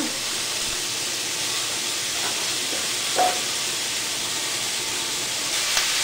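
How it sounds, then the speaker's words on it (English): Hamburger meat and onions brown in a frying pan, giving a soft, steady sizzle with faint stirring scrapes and a couple of small pops, close and fairly quiet. "we're going to brown our hamburger meat and our onions first off"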